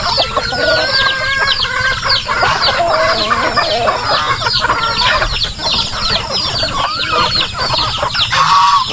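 Free-range chickens on a farm cluck busily while eating, with a rooster crowing among them; the dense, overlapping calls are loud and close and keep going throughout.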